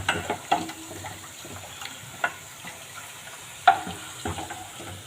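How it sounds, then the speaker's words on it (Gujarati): Methi palak kadhi being stirred in a pan, giving soft scraping strokes and a few sharp clinks of the spoon against the metal over a low, steady sizzle, close and fairly quiet, with no talking. "જો આપણે બીજી બાજુ આપણે કઢી મૂકી છે એને પણ હલાવતા રહેશું"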